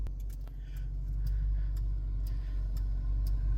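A Dodge Challenger with a six-speed manual idles after a remote start, giving a steady, low engine rumble close by. Faint ticks and light clicks sit over the drone, and no one speaks.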